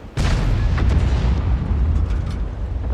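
A tank gun fires in World of Tanks, one sudden heavy boom that cuts in sharply and rolls into a long, dense low rumble lasting the rest of the moment, loud and close with no talking.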